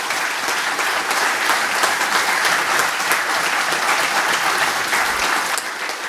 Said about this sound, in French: On peut les applaudir en effet.